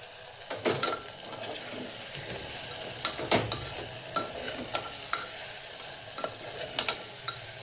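Black masala with turmeric is stirred in a pan for masala rice: a low frying sizzle with repeated clinks and scrapes of a spoon on the pan at an uneven rhythm, close by, with no voices.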